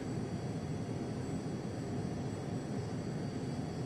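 Steady engine drone and broad hiss of an airliner taxiing out toward the runway in a flight simulator, a constant even roar with no talk over it.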